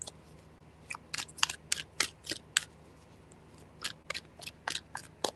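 Quiet, irregular bursts of crisp papery flicks and riffles as tarot cards are shuffled by hand, in a few short runs with pauses between.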